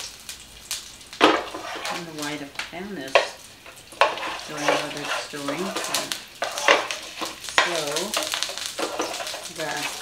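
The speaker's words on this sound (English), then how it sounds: "So you're going to add the almonds. You got to cook those." Almonds sizzling in a hot pan for mixed vegetable curry, with soft frying hiss, utensil scrapes and stirring clatter under a person talking throughout.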